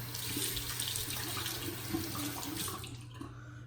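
Tap water running into a sink while rinsing off during a wet shave, a steady close splashing rush that cuts off near the end.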